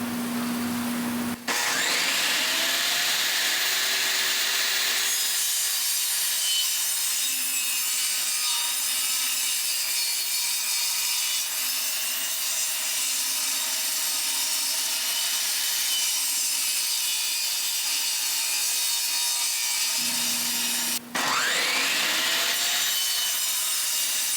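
A table saw cuts a spalted oak board held against the fence for a butcher block side table, with a loud, sustained motor whine and steady cutting rasp lasting about twenty seconds between brief spin-up and spin-down at each end.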